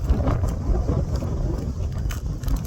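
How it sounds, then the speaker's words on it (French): Motorcycle engine droning steadily during a ride on a road trip through the Vosges mountains, a low continuous rumble mixed with wind buffeting the microphone, with no talk. "les bourdonnements du moteur"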